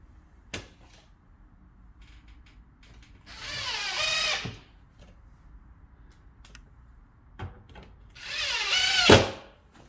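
A power drill drives screws to fasten a radio panel back in place. Two short, close whirring bursts are separated by quiet stretches with light clicks and handling taps.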